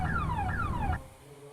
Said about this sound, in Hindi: फाइनली एक गाड़ी स्ट्रेंज गाड़ी मिल गई है जो बहुत हॉर्न कर रही है